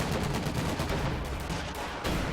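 Machine guns fire in a video game battle against charging grenadiers and Axis tanks: a dense, continuous rattle of rapid shots, loud and close, with no talking.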